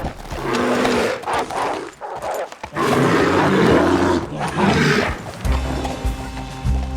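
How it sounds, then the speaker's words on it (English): A bear in the video game Red Dead Redemption 2 growls and roars loudly in the mountains while defending a kill from wolves, with deep, sustained rumbling bursts and brief pauses amid dense outdoor game noise. "A deep growl echoed through the mountains."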